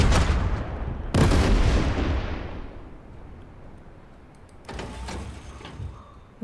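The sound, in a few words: tank firing its gun in the video game Total Tank Generals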